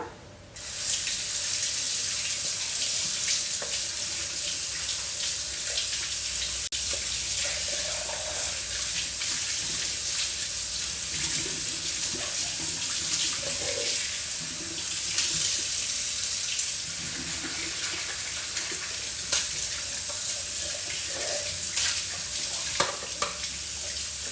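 Tap water runs steadily into a sink while a mixer grinder jar is washed, a continuous close splashing hiss with occasional clinks and rubbing, alone for the whole stretch.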